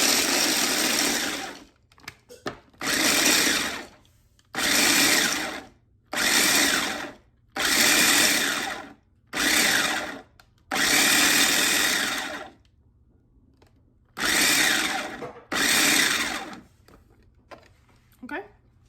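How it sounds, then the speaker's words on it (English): Blender grinding cashews for a box cake batter upgrade, running in about eight loud bursts of one to three seconds each, separated by short pauses. "I'm gonna get them blended."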